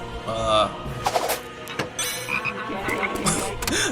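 Frogs croaking in a rapid, overlapping chorus, loud and close, mixed with music and a speaking voice, and a few sharp bangs.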